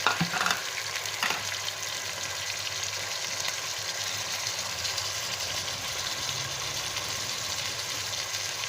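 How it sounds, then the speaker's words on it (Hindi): Marinated boneless chicken strips fry steadily in a pan for Thai chicken fried rice, a continuous close sizzle with faint stirring scrapes near the start and no talking. "इसको भी अच्छे से फ्राई करेंगे, बल्कि गलने तक फ्राई करते रहेंगे।"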